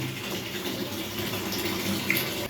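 Warm water for pigeons runs steadily from a tap in an even, unbroken rush, fairly quiet and close, with no voices.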